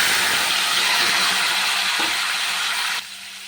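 Pointed gourd hits a pan of frying potatoes with a loud, close, hissing sizzle that stays steady and then drops off abruptly near the end.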